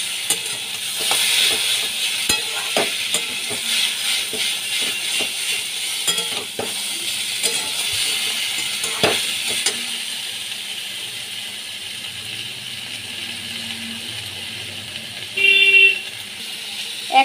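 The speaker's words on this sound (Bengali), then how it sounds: "একটু ভাজা ভাজা করে নিতে হবে।" Kochu loti stem sizzles in a pan with turmeric and salt, a steady frying hiss broken by scattered spatula knocks and stirring scrapes. A vehicle horn toots briefly near the end.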